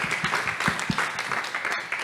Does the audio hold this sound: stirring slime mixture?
no